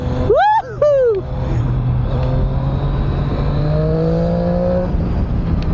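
A 2020 Triumph Street Triple R 765 motorcycle engine drones steadily through corners, a continuous mid-pitched hum with wind rush throughout, while a voice speaks briefly near the start.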